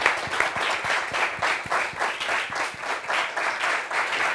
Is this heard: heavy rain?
no